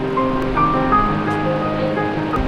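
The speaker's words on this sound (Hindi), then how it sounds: "7 धाराएं मिलकर बनाती हैं इस झरने को।" Seven Sisters Falls, a waterfall formed by seven streams near Cherrapunji in Meghalaya, roars as a loud continuous rush of falling water, steady and unbroken with no voices.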